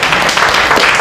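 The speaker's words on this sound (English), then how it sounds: "All right, let's give them a round of applause." Loud, close applause from a Startup Weekend Manila audience cheering a startup team, a dense continuous burst of many hands clapping with no talk over it.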